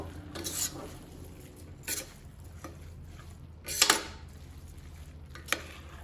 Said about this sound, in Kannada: ಅಕ್ಕಿಯನ್ನು ಹಾಕ್ಕೊಂಡು ಒಂದು 2 ನಿಮಿಷ ಇದರಲ್ಲಿ ಮಸಾಲೆಯಲ್ಲಿ ಚೆನ್ನಾಗಿ ಫ್ರೈ ಮಾಡ್ಕೊಳ್ಬೇಕು